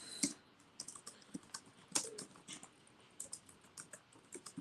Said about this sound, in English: I'm tweeting and typing right here